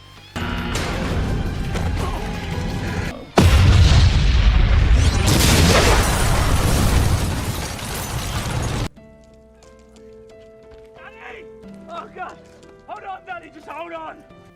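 A police station is flattened by a massive film explosion: a loud, close boom with crashing debris and rumble lasting several seconds, followed by quieter scene sounds with a voice and music-like tones.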